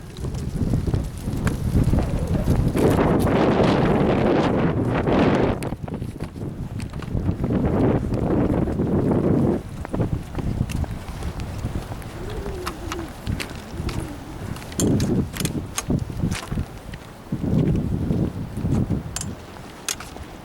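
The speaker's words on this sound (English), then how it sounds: "And the wind's coming up again." Strong outdoor wind gusts roar in broad surges into the microphone, swelling and easing over time, with brief clicks and rustles between the blasts.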